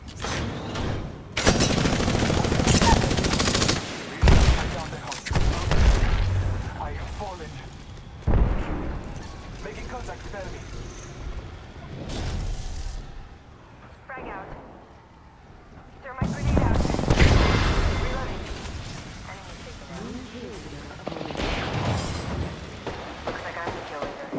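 Gunfire from the video game Apex Legends, with dense bursts and heavy booming shots coming in loud waves, sometimes with a player talking over them.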